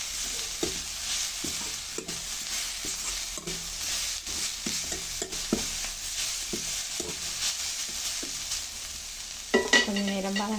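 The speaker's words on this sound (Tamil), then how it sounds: "இதோட கொஞ்சமாக தேங்காய் போடுவோம். இதையும் சேர்த்து வதக்குவோம்." Grated coconut sautéing in a pan for a prawn, dried fish and ponnanganni fry makes a steady sizzle, with a spoon scraping and stirring in an even rhythm; a voice briefly speaks near the end.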